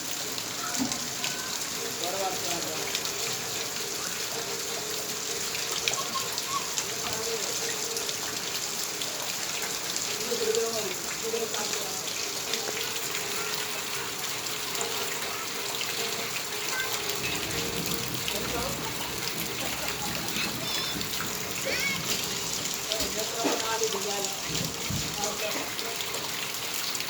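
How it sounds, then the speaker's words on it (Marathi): Steady rain falls in a June afternoon downpour that has gone on for about an hour, a continuous even hiss with a person talking over it. "1 तास झाला पाऊस चालू."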